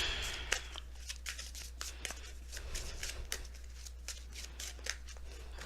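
Cards are shuffled repeatedly up close, a steady stream of quick riffling flicks over a low constant hum, with no talking.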